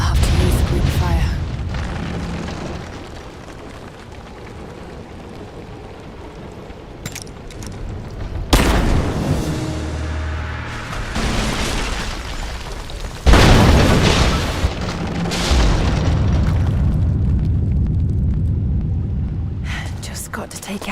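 Greek fire vessels exploding in Rise of the Tomb Raider, with two loud booming blasts that cut in sharply and trail into crackling rumble, set over a continuous low game ambience and a few smaller thuds.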